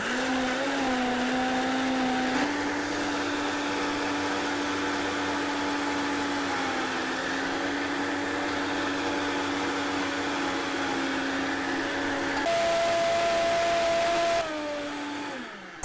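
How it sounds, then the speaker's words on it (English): A countertop blender whirs steadily while blending vegan, dairy-free nacho cheese sauce made with hidden vegetables and veggie liquid, its motor pitch shifting a few times as the mix thickens, loud and continuous with no talk. "And next you just blend up this concoction."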